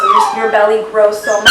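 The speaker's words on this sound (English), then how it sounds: "Sorry, that's my dog." A dog whimpers and yips in high, wavering whines close by, overlapping a person speaking, with a sharper burst near the end.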